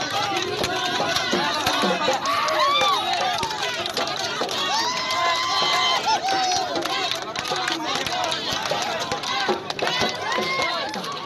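Crowd of members from various groups and organisations celebrating on National Highway 37 in Moran town, a dense, continuous roar of shouting and cheering voices with overlapping chatter, steady and loud throughout.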